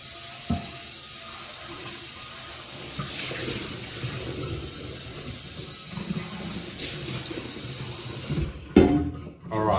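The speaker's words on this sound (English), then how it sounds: "the water is starting to get clearer and clearer, and some of the gunk that's been in the pan" Tap water running into a cast iron pan as it is rinsed of cooked steak residue, a steady hissing splash throughout, with a few clunks of the pan and a louder clatter near the end, no talk.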